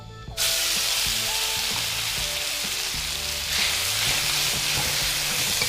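Pounded homemade curry paste hits hot oil in a wok with pork cracklings for a catfish curry stir-fry. A loud, steady sizzle bursts in suddenly and crackles on close by, with faint stirring.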